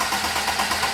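A sports car engine with a rough idle fault idles close by with a steady, slightly uneven rumble and a faint pulsing unsteadiness.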